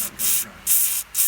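Penetrating oil sprays into a drum-brake stud hole in three quick, close hissing bursts from an aerosol can, each about a quarter second long.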